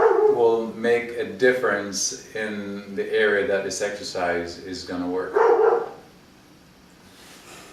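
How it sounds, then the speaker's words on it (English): A neighbor's dog barks in the background, partly buried under a woman's steady instruction during a fitness class; the barking is fairly distant and intermittent beneath the near, continuous talk. "that's my neighbor's dog barking"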